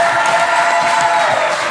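A crowd at a live show claps loudly for the people who help put on the event, a dense, continuous burst of applause with some cheering mixed in.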